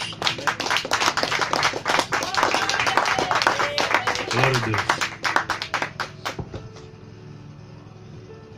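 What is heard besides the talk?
congregation clapping in praise to God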